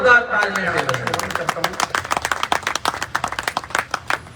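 An audience at a Martyrs' Day poetry gathering breaks into clapping, beginning as a ragged spread and tightening into a loud, fairly steady rhythmic beat, with a voice briefly heard at the start.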